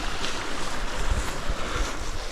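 The fast-flowing Peksha river rushes past close by, a steady broadband roar of churning water with gusts of wind buffeting the microphone throughout.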